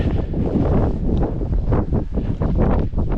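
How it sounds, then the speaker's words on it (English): Strong gusting wind on the summit of Cadair Berwyn buffets the microphone in loud continuous roaring rushes. "Oh, here's the wind."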